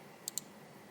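Two quick, crisp computer mouse clicks close together, faint and isolated against a quiet room background.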